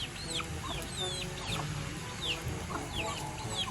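Chickens clucking steadily with short, repeated calls, several birds close by, over a constant background hum; no talking.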